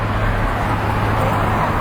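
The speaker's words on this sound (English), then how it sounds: "can hear the rush of the cars going on Park Avenue" Steady, dense roar of road traffic on Park Avenue, New York, a continuous rushing wash of passing cars with no breaks.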